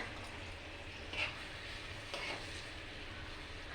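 Tomatoes cooking in a pan, a soft steady sizzle with a couple of brief stirring scrapes, fairly quiet and close.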